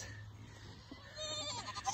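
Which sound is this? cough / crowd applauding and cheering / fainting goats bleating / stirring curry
fainting goats bleating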